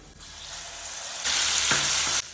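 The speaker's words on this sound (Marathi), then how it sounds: "थोड्याशा तुपामध्ये ड्रायफ्रुट्स आणि केळी तळून घेऊया।" Cashews, raisins and sliced bananas fry in a little ghee, a hiss that swells sharply partway through into a loud, bright sizzle, then cuts off abruptly near the end.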